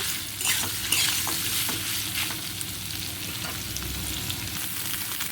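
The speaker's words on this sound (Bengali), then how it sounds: "এই তেলের মধ্যে সয়াবিনগুলো আমি ভেজে নেব" Soybean chunks frying in oil in a kadai, stirred with a spatula: a close, steady crackling sizzle with intermittent scraping strokes over it, no one speaking.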